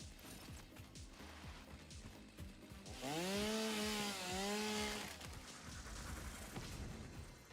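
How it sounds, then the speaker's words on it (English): A chainsaw revving and cutting in a factory-building video game. Its buzzing snarl rises and falls in two long, wavering pitch sweeps amid rhythmic clunking, loudest in the middle and then fading back. "And I'm going to grab my chainsaw."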